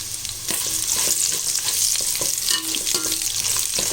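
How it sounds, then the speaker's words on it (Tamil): Chopped onions and bay leaves sauté in hot oil for seeraga samba chicken dum biryani, giving a steady, close sizzle with repeated scrapes and taps of a stirring spoon throughout. "இந்த வெங்காயம் நல்லா வதங்கணும்"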